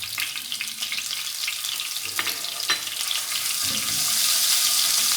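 Ginger garlic paste fries in a pan, giving a steady broadband sizzle with a few sharp crackles that grows slightly louder toward the end, close and without any voices.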